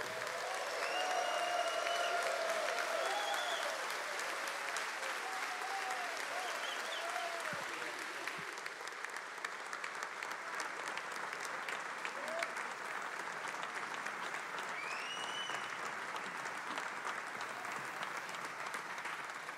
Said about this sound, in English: stand up and give a round of applause